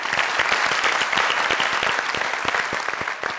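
A studio audience at the Mazaq Raat comedy show claps loudly and steadily throughout, a dense, close burst of applause.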